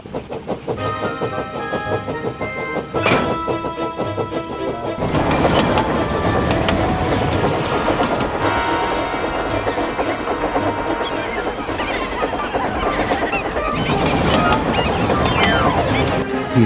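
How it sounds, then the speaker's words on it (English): A train rumbles along the tracks with a dense, continuous clatter that swells as it draws nearer, loud and sustained. "he heard a train approaching."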